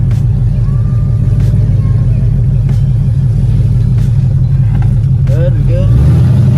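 A C6 Corvette fitted with open Pace Setter long-tube headers roars at a very loud, close, steady deep rumble throughout, with a brief voice speaking over it.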